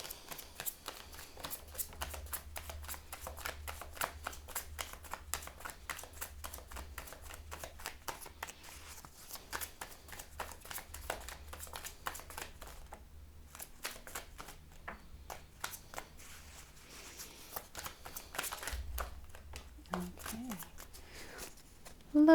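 Tarot cards are shuffled in a steady run of quick riffling, flicking bursts that continue throughout, with soft handling noises and a faint low hum underneath.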